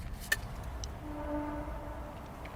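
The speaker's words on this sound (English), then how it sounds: "That's just a train." A distant train in the woods sounds a faint, drawn-out horn tone over quiet outdoor ambience, with a sharp click just before it.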